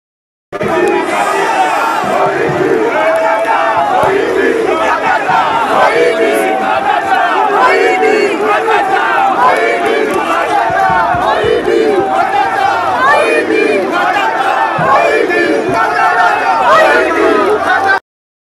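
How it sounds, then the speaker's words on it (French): A large crowd chants and shouts together at a political gathering linked to Congo, a dense, continuous roar of many voices with rhythmic chanted phrases holding steady and loud for the whole stretch. "mais la foule chantait, disait autre chose"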